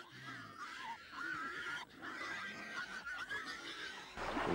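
Pigs grunt and snort in a sound effect for a Bible reading of the herd of swine rushing into the sea, a steady mix of snuffling animal noises at moderate distance with no speech.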